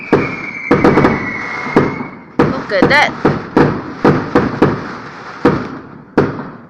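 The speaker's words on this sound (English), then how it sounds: "Whoa, fireworks." New Year fireworks burst again and again in sharp, loud bangs and crackles from fairly close by, about a dozen blasts at an irregular rhythm. Excited voices are heard under and between the explosions.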